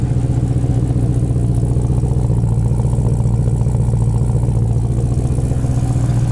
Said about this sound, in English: how can you not be excited just hearing that 707 horsepower just roaring through a 3-inch exhaust all the way back?